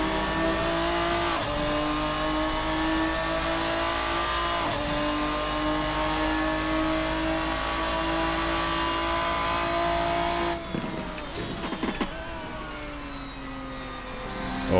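Ferruccio 57 race car in the Assetto Corsa racing sim, its engine loudly revving and climbing through the gears with steady rising harmonic tones, then a rougher, choppier stretch of lifting off and shifting near the end.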